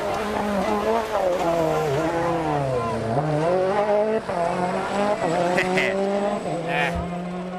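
Kubica's rally car corners at enormous speed, its engine loud and close with sweeping rises and falls in pitch as it shifts, plus brief tire scrabble, while commentators talk over it.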